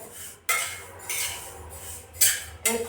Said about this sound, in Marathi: सारखं चम्मच देत राहायचं जेणेकरून सारखे तीळ भाजले जातात